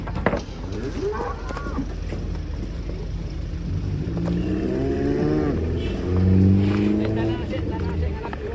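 Cattle being unloaded from a truck low out in several long, drawn-out moos, the loudest near the end, over a rumbling engine, with people talking in the background.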